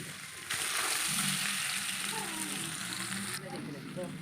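Fried raw mango pieces and dried chillies dropped into hot oil for pickle, a sudden loud sizzle that keeps hissing and crackling close by, then eases a little near the end.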